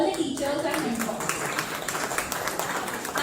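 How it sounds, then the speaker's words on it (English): An audience gives continuous applause for teachers and mentors at a school gathering, a steady mass of clapping with a voice heard over it at the start. "So big applause to all the teachers and mentors."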